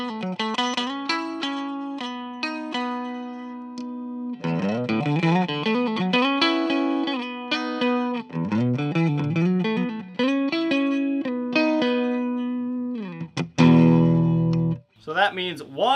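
A 1992 experimental Gibson prototype electric guitar played through an out-of-phase pickup setting, giving a thin, nasal, quacky tone across melodic runs and held notes, ending with a harsher strum.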